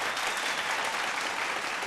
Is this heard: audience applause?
yes